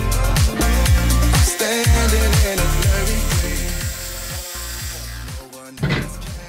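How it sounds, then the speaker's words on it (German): A jigsaw cuts a circle out of wood for a cat tree module, its buzzing, juddering motor running loud and close with short dips in speed, easing off near the end. "Und die säge ich jetzt mit einer Stichsäge aus."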